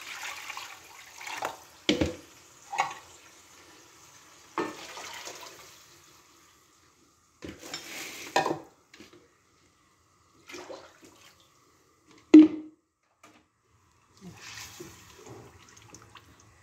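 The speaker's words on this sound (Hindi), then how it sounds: "पानी डालते हैं इसमें," Water poured into a karahi of prepared masala for kadhi pakora, heard as a few short splashing bursts between pauses, fairly faint and close, with someone speaking in between.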